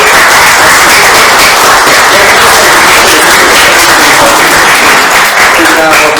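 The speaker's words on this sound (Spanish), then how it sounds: "un aplauso muy grande" Loud, close audience applause marks the end of a talk. The broadband clapping runs continuously and densely, with voices mixed in and a voice rising near the end.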